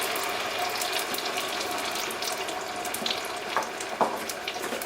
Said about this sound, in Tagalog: Add the coconut milk to the pan on a medium heat